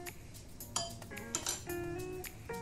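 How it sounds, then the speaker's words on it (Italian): A fork clinking against a bowl while lightly mixing eggs for choux pastry, a scattered run of bright metallic taps and chinks of varying loudness, close by with no talking. "Inseritele in una ciotola e andate a mescolarle un pochino con una forchetta, giusto per amalgamarle."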